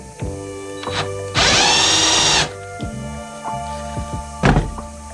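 A power drill bores a hole through metal in a workshop on a 1993 Toyota pickup, with a loud sustained whine of about a second between knocks and clatter of handling.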